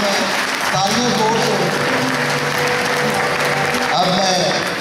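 Hall audience clapping at an Eid Milan party in Walthamstow, a sustained round of applause with voices speaking over it and some tonal sounds rising through the clapping.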